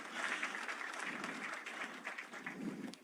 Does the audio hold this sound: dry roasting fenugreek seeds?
no